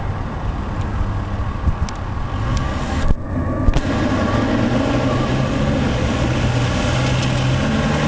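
Dodge Ram 2500 turbo diesel truck engine running with a steady low rumble and hum, continuous and fairly loud, with a brief dip and a couple of small knocks partway through.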